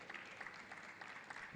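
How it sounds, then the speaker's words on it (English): Audience applause at an Equipment and Manufacturing West Africa conference: a faint, distant patter of many hands clapping, even and sustained for a brief moment. "a round of applause for"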